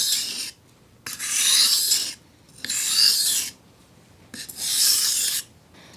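A kitchen knife is drawn along the 1000 grit side of a Goodjob sharpening stone in three long, steady rasping strokes, close and loud, with short quiet pauses between them.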